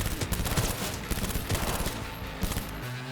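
A heavy-recoil gun in Cyberpunk 2077 fires loud, rapid shots in quick ragged bursts, hammering almost without pause for about three seconds.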